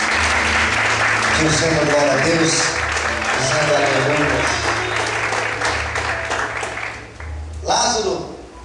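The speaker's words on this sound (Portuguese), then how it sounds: "Vamos aplaudir o Senhor nessa noite" A church congregation claps together through an evening service, steady applause running beneath a preacher's voice and organ-like tones, then fading as the speaker continues.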